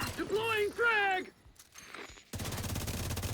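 A frag grenade goes off in a video game, followed by a steady burst of gunfire, loud and close, after a voice speaks briefly.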